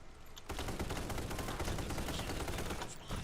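Rapid, dense automatic gunfire rattles continuously for about three seconds in the Vietnam War shooter Military Conflict: Vietnam, close and harsh, starting abruptly after a brief lull, with no talking over it.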